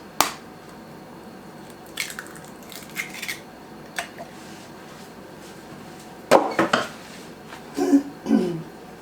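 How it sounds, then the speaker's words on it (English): An egg goes into a salmon patty mixture in a kitchen: a few sharp taps and clinks against a bowl, then a cluster of cracking and squishing sounds, close and fairly quiet with a soft hum behind. "Okay, I'm going to add 1 egg."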